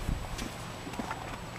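Hooves of a large horse at the Irish National Stud clip-clop faintly in a few irregular soft thuds, distant and quiet against background ambience.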